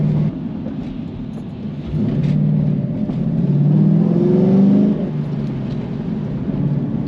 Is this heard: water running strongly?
no